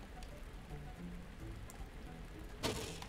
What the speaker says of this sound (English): Just stood out here in the rain.